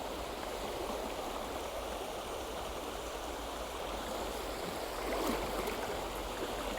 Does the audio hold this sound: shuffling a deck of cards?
no